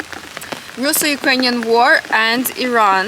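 Rain falls steadily on a rainy day in Ukraine as a soft, continuous patter beneath a person talking close by.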